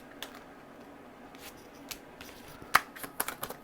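Tarot cards are shuffled and flicked in quiet, sparse bursts, with soft snaps and riffles coming in irregular clusters that grow busier toward the end.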